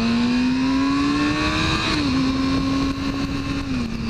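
A motorcycle engine drones steadily while riding along twisty roads, a constant close-up hum with the pitch dipping slightly as the throttle shifts, with the wind rushing underneath.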